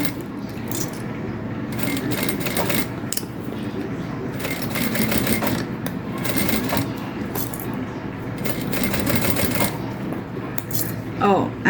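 A sewing machine stitches a shoulder bag in short, rhythmic bursts of mechanical whirring and clatter, stopping and restarting close by. Someone talks between and over the runs.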